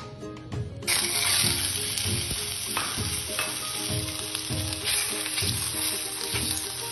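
Beef sizzles loudly in a hot oiled pan, a dense continuous crackle that bursts in at the start, with regular scraping stirs.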